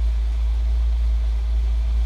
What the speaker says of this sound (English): It's only just idling at the moment.